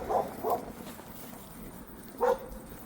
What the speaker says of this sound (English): Nice loud dog.